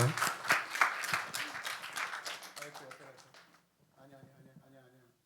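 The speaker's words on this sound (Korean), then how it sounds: "박수하겠습니다." A church conference congregation claps for a couple of seconds. The applause is moderately loud, then fades, and a voice is speaking by the end.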